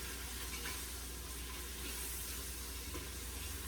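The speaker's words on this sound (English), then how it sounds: "Now mix it while this is frying." A steady, quiet sizzle of tomato sauce frying in a pan over high flame, with faint scraping from stirring now and then, no talking.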